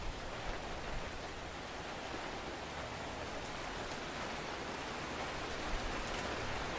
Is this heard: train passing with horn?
no